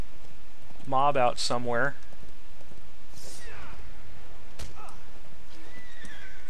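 A horse in the video game Riders of Rohan gives a loud, close neigh early on, followed by fainter game effects and a brief sharp hit, with someone talking over part of it.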